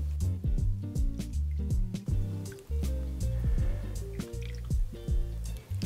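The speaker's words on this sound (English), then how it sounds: "we'll just slowly pour that on top to give us this beautiful purple layer" Gin poured slowly over a layered gin and tonic cocktail, producing close, liquid glugs, drips and fizzy trickling that fill the whole moment.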